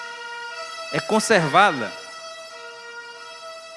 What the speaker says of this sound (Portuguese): Com certeza uma sirene dessa já tira a paz, né?